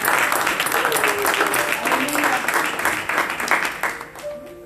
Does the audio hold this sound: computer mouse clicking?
no